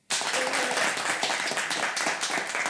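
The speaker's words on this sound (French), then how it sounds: "on va demander au public, par applaudissement" Applause erupts suddenly from an audience, a burst of dense clapping that stays lively and loud to the end.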